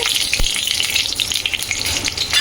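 Dried chillies, bay leaf and panch phoron sizzle steadily in hot oil, a loud, continuous frying crackle with a brief thump near the start and no talk.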